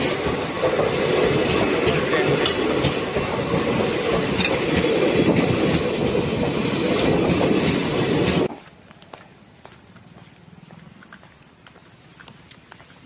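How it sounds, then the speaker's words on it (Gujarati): A Jabalpur-bound train rumbles and clatters loudly through Lushala railway station for several seconds, then cuts off abruptly, leaving faint ambient noise. "હમણાં જબલપુર ટ્રેન નીકળશે"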